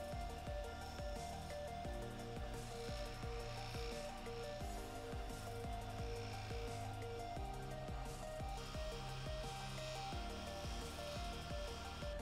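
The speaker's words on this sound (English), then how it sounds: "I'm going to clean up these two pieces with the Scotch-Brite wheel" A buffing machine with a Scotch-Brite wheel cleaning carburetor parts gives a steady, continuous whir with a grinding, abrasive rub running throughout at a constant loud level, no talking.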